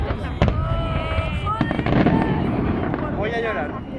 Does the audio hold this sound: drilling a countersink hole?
no